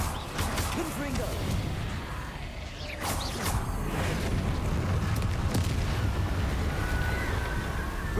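Confringo blast spells exploding in the Hogwarts Legacy video game, a dense, continuous roar of booms and crashes amid battle noise, loud and close, with a voice calling out over the din.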